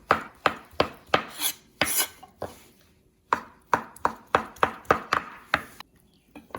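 Knife slicing softened ingredients on a cutting board for Korean glass noodle japchae, a run of about fifteen crisp, close knocks in an uneven rhythm with a short pause midway.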